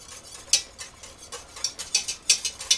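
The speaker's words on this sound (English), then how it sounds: "And only stop stirring for a few seconds, every few seconds, so that it doesn't burn on the bottom." A spoon stirring thickening gravy in a pot: quick, irregular clinks and scrapes against the metal, close and fairly loud, repeating in an uneven rhythm with no talk.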